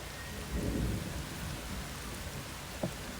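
A thunderstorm with steady rain hissing throughout, a low rumble of thunder swelling early on and a sharper crack near the end, heard alone at moderate level.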